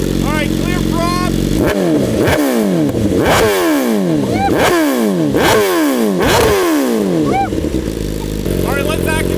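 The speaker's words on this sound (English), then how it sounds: "The audio clips that come through the camera do not justify this full titanium Akrapovic exhaust" A 2025 BMW S1000RR with a full titanium Akrapovic exhaust revs repeatedly in sharp, rising bursts, about six loud blips in a steady rhythm between an idle at the start and at the end, close and continuous.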